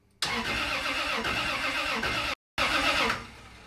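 A car engine with a sizable oil cooler cranks loudly in two sustained bursts separated by a brief pause, the starter churning steadily without the engine catching.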